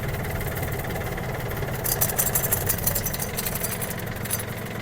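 A Yanmar US-31D mini tractor engine runs with a steady rhythmic chug, rising slightly and clattering harder midway as it revs, close by with no talking.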